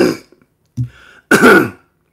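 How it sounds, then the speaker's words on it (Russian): A man clears his throat and coughs at close range, giving a few rough, raspy bursts with short silent gaps between them, the last one loud and drawn out. "а я откашлюсь"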